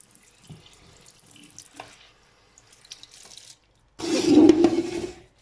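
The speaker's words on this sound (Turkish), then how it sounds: "Şuradan tatlı su dolduruyorum. Böyle bu dolsun bakalım." Fresh tap water gushes into a container on a balcony, a loud close burst of running water lasting about a second after quieter handling noises.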